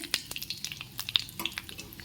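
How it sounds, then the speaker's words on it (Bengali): Panch phoron spices fry in a little ghee, giving close, rapid crackles and pops that come in an irregular stream over a quiet background. "5 ফোড়নটা ভাজা ভাজা হয়ে গেছে"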